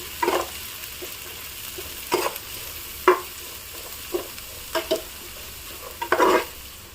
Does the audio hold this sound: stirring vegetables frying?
yes